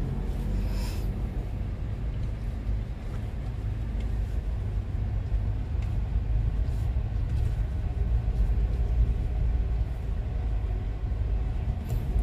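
A car engine running steadily in first gear while driving, a continuous low rumble and hum at a moderate, even level with no speech.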